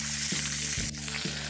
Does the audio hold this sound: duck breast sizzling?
yes